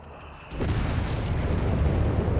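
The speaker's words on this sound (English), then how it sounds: "Massive explosions there as trucks are being ruined." Explosions in Company of Heroes 3 as trucks are destroyed: a sudden heavy boom after a quiet half second, followed by a continuous loud, rumbling roar of blasts that stays dense until the end.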